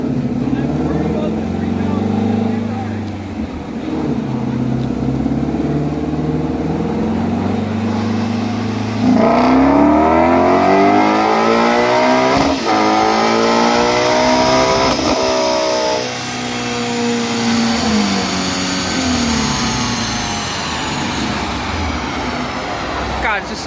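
Car engine revving hard on a dynamometer during a power pull, a sustained loud roar that climbs in pitch through several gear-like sweeps before easing off.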